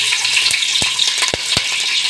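Green chilies sizzle in hot coconut oil, a steady, dense crackling hiss with a few sharper pops and spatters close by.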